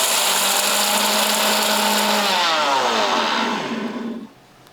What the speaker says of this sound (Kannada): ಈ ಮಿಕ್ಸಿ ಜಾರಿಗೆ ಹಾಕಿ ರುಬ್ಕೋತೀನಿ ರೀ